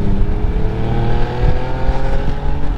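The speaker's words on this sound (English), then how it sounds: "When the valves are open and you want to have some fun," A BMW E46 with a valved exhaust and the valves open, a loud close engine drone revving and surging with a throaty, rising and falling exhaust note.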